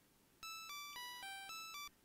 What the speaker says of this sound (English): Yay, I have a bell.